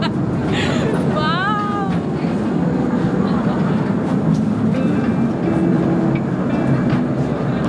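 A mini train runs on rails inside a gold mine tunnel 60 metres underground, a loud continuous rumble with brief metallic wheel squeals early on, heard close within the enclosed space.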